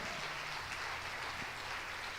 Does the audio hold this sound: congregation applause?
yes